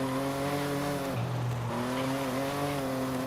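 A Volkswagen Corrado VR6 turbo in Forza Horizon 5 drives with a steady engine drone and a brief pitch drop mid-shift, tires squealing and skidding through a corner, with no talk over it.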